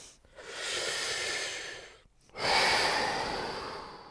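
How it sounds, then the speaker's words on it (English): Slow, deep breaths drawn in and let out during a guided ninjutsu warm-up hang, two long airy exhalation-like swells separated by a brief pause, close and fairly soft with no talking. "Take some deep breaths in."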